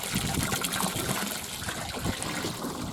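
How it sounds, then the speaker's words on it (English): Water drains from a hot water heater into a cattle tank, a steady close trickle and splashing stream that continues without a break. "That's coming from the hot water heater."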